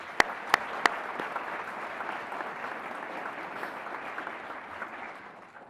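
Audience applause at an evening awards ceremony for Novi police and fire personnel, following bagpipe playing: a steady, dense wash of clapping from a large indoor crowd, a few sharp nearer claps at the start, sustained then tapering slightly.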